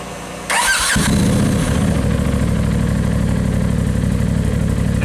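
A Polaris RZR Turbo S fitted with a Trinity exhaust cranks briefly, catches and fires up loudly, then settles into a steady, throaty idle close by.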